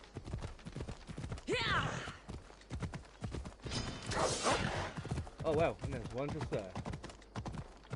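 A horse's hooves clip-clop in a rapid rhythm in Assassin's Creed Odyssey, with an excited voice talking over them.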